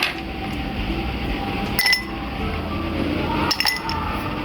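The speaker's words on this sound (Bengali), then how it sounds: "তারপর এখানে কিছুটা আইস কিউব দিয়ে দিচ্ছি।" Ice cubes dropped into a glass over cut lemon pieces while making a chocolate drink, giving a few sharp clinks around the two- and four-second marks over a steady low kitchen background.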